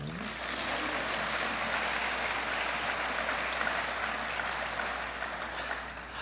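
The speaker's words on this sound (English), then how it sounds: "Round of applause." An audience at a museum conference keynote applauds, a dense, steady wash of clapping that holds for several seconds before starting to thin near the end.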